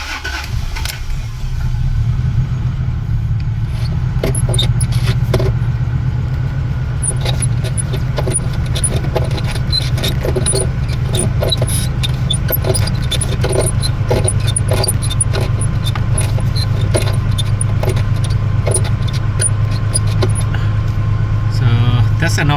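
A Holden Rodeo (Isuzu) runs just after starting, its steady low engine hum and idle carrying on throughout, with scattered faint clicks and knocks from under the dash layered over it; no one speaks.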